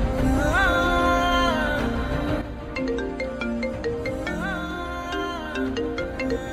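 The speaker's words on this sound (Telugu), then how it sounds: "చిన్ని ఫోన్ చేస్తుందిరా" A phone rings for an incoming call, a loud melodic electronic ringtone tune with bright repeating notes playing continuously and alone.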